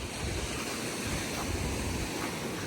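Atlantic Ocean waves washing onto a littered beach in Montserrat, a continuous loud rush of surf mixed with wind buffeting the microphone, no voices.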